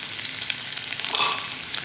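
Chopped onion with a teaspoon of salt frying in oil for a pepper sofrito, a close, continuous crackling sizzle with a brief louder burst of spatter partway through.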